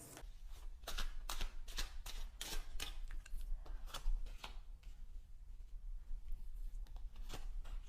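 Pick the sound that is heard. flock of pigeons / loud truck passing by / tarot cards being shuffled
tarot cards being shuffled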